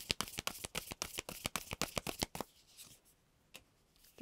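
Tarot cards are shuffled in a quick, even run of crisp riffling flicks for about two seconds, then the deck settles with a couple of soft, isolated card snaps in near quiet.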